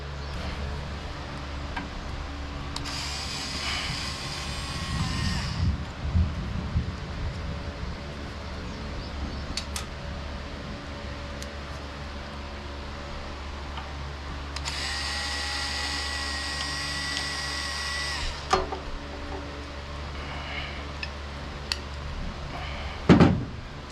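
A power driver spins out Torx screws from the carburetor housing of a Devilbiss Powerback generator: two separate whirring bursts a few seconds each, with quieter handling clicks and taps between them.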